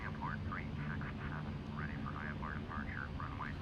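A default Boeing 737-800 airliner in Microsoft Flight Simulator X hums with a steady, low engine drone in flight, while someone talks over it throughout.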